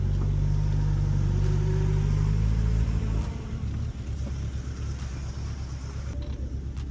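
A Honda Civic with a rough-running engine drives along, its low rumble steady and loud up close, then shifting into a choppier, pulsing drone partway through with no talking.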